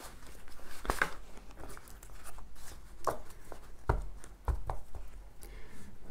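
A tarot card deck is cut and shuffled by hand, producing sparse, close, soft papery slaps and rustles with quiet pauses between them.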